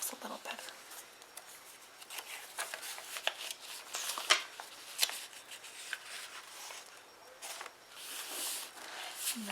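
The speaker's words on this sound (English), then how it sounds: "that's crinkly deli paper you hear" Crinkly deli paper handled inside a scrapbook garden journal, close rustling and crackling in irregular bursts while a voice talks quietly.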